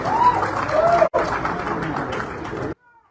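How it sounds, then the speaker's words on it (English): Crowd at a Peter Obi campaign rally in Kaduna breaking into loud, dense applause and cheering, sustained for a few seconds before cutting off abruptly. "One of the best speeches Peter Obi made in Kaduna, which came with a thunderous applause"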